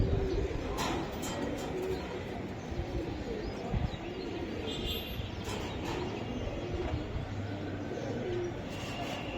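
Iranian Homa pigeons coo softly amid a busy, noisy loft background, with faint intermittent bird calls and distant rumbling throughout.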